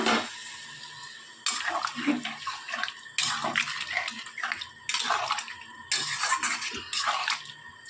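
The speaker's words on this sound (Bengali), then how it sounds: "পরিমাণ মতন জল দিয়ে দিলাম" Water poured into a pan of fish roe curry, a splashing, bubbling pour that comes in several bursts with brief pauses between them, heard up close.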